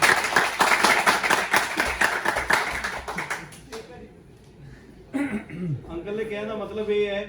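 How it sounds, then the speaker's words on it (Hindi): Audience clapping in a classroom lecture, a dense burst of claps for several seconds that fades out, followed by voices talking. "ठीक है, तालियां दोबारा बजाओ।"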